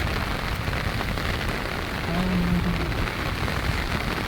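Heavy monsoon rain pours down steadily, a dense, even roar of water hitting the ground with no breaks, close and loud, and a faint low murmur of a voice briefly underneath midway.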